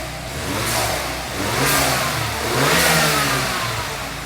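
A 2015 BMW 320i F30 engine runs close by and revs three times in a row, each rise and fall swelling over a steady idle, with no talking.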